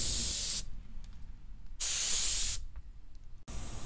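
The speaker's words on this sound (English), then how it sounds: "I just kept applying the clear coat and hope for the" Spray gun applying 2K clear coat to car headlights, heard as three loud hissing bursts with short quiet pauses between them.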